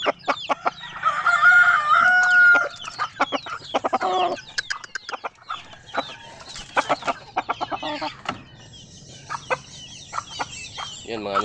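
Rhode Island chickens cluck and roosters crow in a yard, repeated loud calls and clucks close by, with other fowl chattering in the background.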